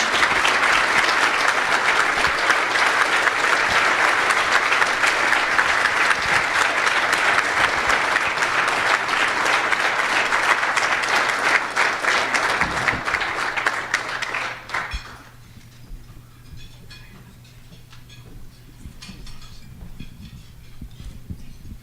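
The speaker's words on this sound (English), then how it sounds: "Please, let's all, with a round of applause, welcome our third honoree today" An audience at a sheriff's department award ceremony gives sustained loud applause for an honoree, steady dense clapping that fades out near the end, leaving quiet room tone and faint murmurs.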